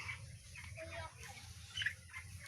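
Broiler chickens on a farm cluck and chirp in scattered short calls over a steady low hum, moderately close, with no talking.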